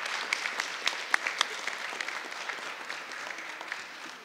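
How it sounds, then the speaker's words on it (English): Audience applause at a foster care extension bill signing, a steady patter of many hands clapping for about four seconds with a few sharper individual claps, fairly distant and even. "Please give all of these incredible youth a round of applause for being here today"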